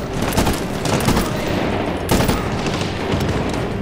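Gunfire from the video game Medal of Honor Warfighter comes as loud, dense bursts of rapid automatic shots, almost without pause, with heavier blasts in the mix.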